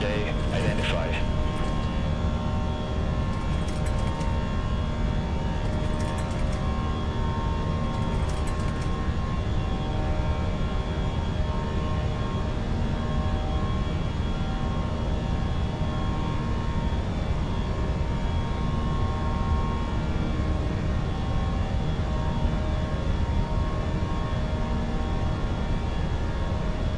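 A British Airways airliner, Speedbird 338, climbing out after departure from Dublin toward Heathrow, with a steady, continuous engine roar and broadband cabin rumble holding throughout, while a voice talks faintly over it.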